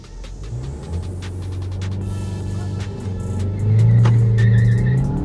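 Stage 1 Punto Abarth and Tiguan Allspace accelerate hard side by side in a drag race under launch control with traction control off, engines droning and rising in pitch through gear changes, loud and close with a rising roar near the end.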